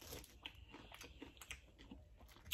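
Quiet, close crunching bites of crunchy chicken wings and chewing repeat irregularly, crisp crackles with soft mouth sounds between them and no talking.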